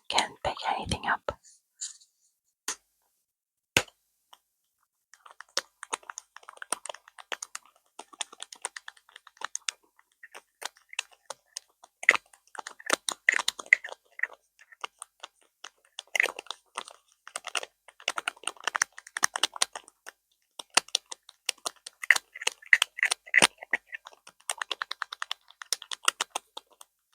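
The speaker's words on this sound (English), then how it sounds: "Next, lid sounds and liquid shaking." Sharp ASMR tapping and clicking from a lid, recorded close on a cheap lav mic, come in irregular bursts with brief rattles and faint shaking between quiet gaps.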